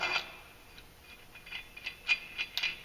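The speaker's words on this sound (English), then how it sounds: "putting your clutch bolt in, torquing that to 40 foot-pounds" A torque wrench tightens the clutch bolt on a 2016 Polaris General 1000 to 40 foot-pounds, making faint, sparse ratcheting clicks and ticks in a quiet setting, with a few sharper clicks near the end and no voices.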